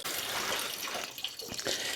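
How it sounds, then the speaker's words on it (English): Coolant drains steadily from a Chevrolet Trailblazer engine during thermostat housing work, a continuous close splashing, trickling rush that holds level for the whole stretch with no voices. "Alright, just kind of let it drain out a little bit there."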